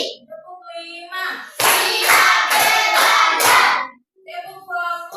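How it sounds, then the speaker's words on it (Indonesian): A class of children claps in unison, with about five sharp, evenly spaced claps in a steady counted rhythm, close and loud. A teacher and children speak before and after the claps. "Tepuk 1, tepuk 2, tepuk 3, tepuk 4"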